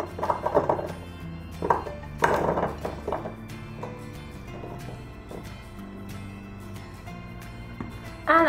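Potatoes tossed with parmesan and garlic butter are tipped into an ovenproof dish in a kitchen, giving a few clinks and soft knocks of dish and utensils early on, then quieter handling with a final louder clatter.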